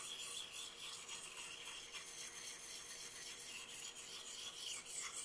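A bushcraft knife blade is sharpened on a stone in small circular strokes, producing a steady, close, continuous gritty rasping and scraping that runs the whole way through with no talking.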